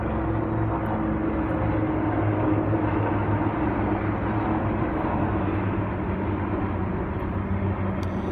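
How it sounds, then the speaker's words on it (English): A helicopter flying overhead in Los Angeles, a loud, steady, close rumble that holds at one level throughout with no voices. "thank you, helicopter, really?"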